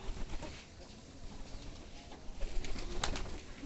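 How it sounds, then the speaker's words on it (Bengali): Pigeons at a pigeon farm coo steadily in a low, throaty rhythm, several birds close together, with some wing flutter and rustling throughout and no one talking. "কবুতরগুলো"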